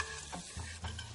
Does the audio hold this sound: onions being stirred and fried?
yes